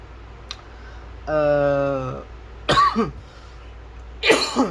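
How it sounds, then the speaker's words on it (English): A person coughs a few times in short, harsh bursts, separated by a pause and a brief tonal sound, close to the microphone. "been coughing quite badly"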